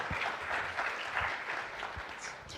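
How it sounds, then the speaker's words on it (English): Conference audience at a fintech business banking event gives a brief, moderately quiet round of steady applause, a dense wash of many hands clapping at some distance with a few low thumps. "a big round of applause for our next panel"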